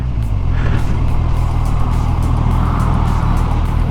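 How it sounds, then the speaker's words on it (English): Cars passing steadily in road traffic, a loud, close, continuous engine and tire roar with no talking. "And more traffic."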